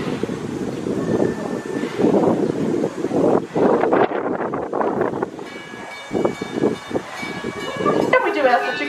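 Heritage railroad car ride through a historic village, with the rolling rumble and rattle of the train and wind buffeting the microphone, under an announcer's voice on the public address.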